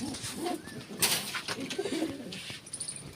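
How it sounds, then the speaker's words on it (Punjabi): Pigeons, including a red one, cooing nearby in low, soft repeated coos, with some rustling and background noise around them. "ਇੱਕ ਆ ਲਾਲ ਜੀਨਾ ਕਬੂਤਰ ਆਪਣਾ"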